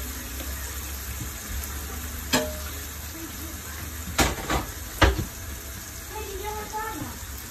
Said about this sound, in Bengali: আমি এখন মাছগুলি দিয়ে দিব।